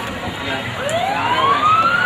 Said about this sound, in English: Here we hear the sirens.